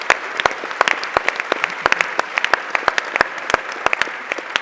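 A modest audience at a science event on at-risk youth claps, with a scattering of distinct individual hand claps in an uneven rhythm, fairly close and alone, no talk over it.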